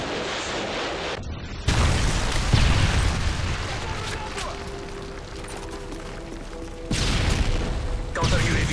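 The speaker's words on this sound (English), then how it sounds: "Friendly Predator missile inbound." In Call of Duty: Modern Warfare 3 on the Interchange map, a Predator missile strike sets off heavy booms and rumbling explosions, with a loud burst early on and another near the end, amid ongoing game noise.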